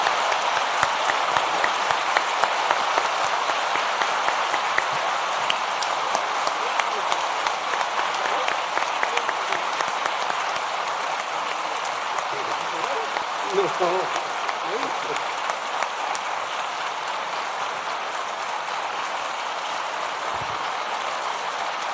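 Sustained audience applause fills a hall after a Supreme Court judge finishes his address at an international law seminar, a dense steady patter holding throughout and easing slightly toward the end.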